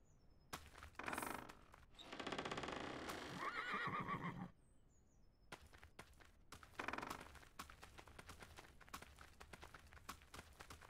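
A horse in the survival video game Jaws of Extinction gives long, loud whinnies, followed by a run of rhythmic hoof clip-clops.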